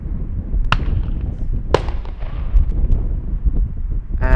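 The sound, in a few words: fireworks fired by Schiphol Airport bird scarer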